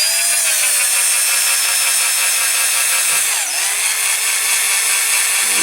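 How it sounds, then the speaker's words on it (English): A drill bit bores into the metal post of a die-cast Dinky Toys MG Midget model, producing a steady, loud grinding whine that runs throughout with a brief dip midway. "And don't go too fast, otherwise your drill bit heats up and then it just melts."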